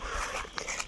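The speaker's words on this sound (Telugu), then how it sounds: "అక్కడ ఎవరు లేరు కాబట్టి కుక్కలు మన వెనకాల వచ్చేస్తున్నాయి" A brief moment of close dog sounds in a forest, soft panting and a faint whimper from dogs following behind.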